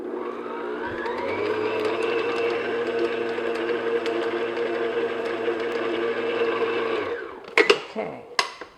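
Electric mixer beating butter until creamy for shortbread tart dough, a steady loud motor whir running continuously for about seven seconds before stopping, followed by a few clattering knocks.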